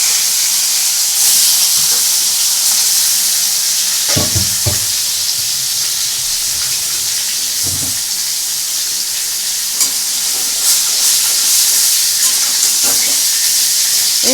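Shol and magur fish sizzle as they fry in hot oil, a steady broad hiss throughout with a few louder spits and stirring clatters near the middle.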